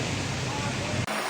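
Floodwater from a swollen river rushes through town streets in Rizal during a typhoon, a loud, dense, continuous roar that cuts briefly at the end.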